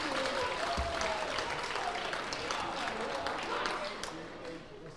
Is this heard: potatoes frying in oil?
no